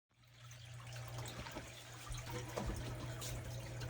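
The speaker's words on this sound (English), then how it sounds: "I'm loosening the knot on my drip system in order to get the water back into the tank a little bit quicker" Water trickles from a loosened drip system back into a fish tank in a steady, close splashing stream, with a low electrical hum underneath.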